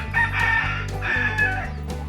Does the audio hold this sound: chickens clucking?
yes